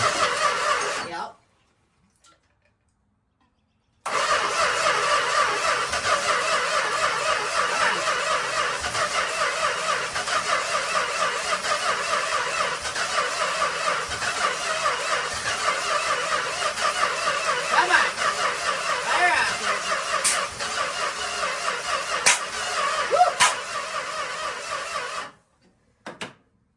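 A 1965 Plymouth Valiant engine cranks and fires up, settling into a loud, steady running rumble that continues close by for over twenty seconds, with a brief silent gap near the start.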